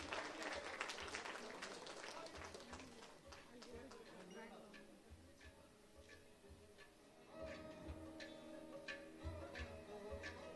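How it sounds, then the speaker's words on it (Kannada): Audience clapping at an award ceremony, a steady wash of applause that dips midway and swells again, with sharp individual claps standing out near the front. "ಮತ್ತೊಮ್ಮೆ ಮಗದೊಮ್ಮೆ ಚಪ್ಪಾಳೆಯ ಗೌರವವನ್ನು ಸಲ್ಲಿಸಿ"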